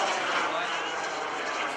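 Radio-controlled model airplanes fly at an afternoon airshow, giving a steady broadband engine drone that holds at a constant level throughout, with no break or pass-by swell.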